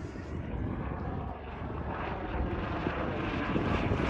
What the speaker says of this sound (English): That's actually the Embridge helicopter. It flies over once, twice a week.